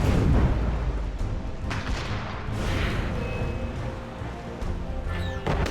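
Ship cannons fire in a naval battle in Assassin's Creed Rogue, a dense run of heavy booms and crashing impacts over rumbling ocean ambience, loud and continuous throughout.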